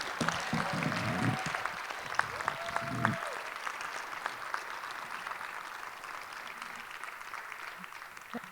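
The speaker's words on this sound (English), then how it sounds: "Can we give a round of applause for all of our students tonight?" Applause from an audience for student performers at a school spoken word night, a dense sustained patter of many hands, with some low rumbling early on that eases, then steady clapping.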